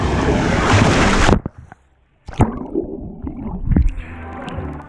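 Water from a resort pool waterfall splashing loudly up close, cutting off abruptly into near silence, then returning as scattered splashes and a lighter rushing spray.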